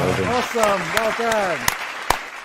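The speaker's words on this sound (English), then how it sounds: "I'm going to give you a clap" A few sharp hand claps ring out, spaced irregularly, while a person keeps talking over them.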